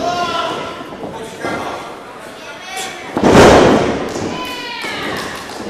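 A wrestler slammed down onto the mat during a three-on-three match, landing as a heavy thud partway through, with an announcer talking throughout and crowd noise underneath.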